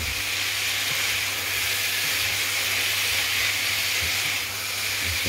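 Carrots hitting a hot pan while cooking Cantonese garlic chicken give off a loud, steady hiss of sizzling and steam that fills the whole stretch with little variation.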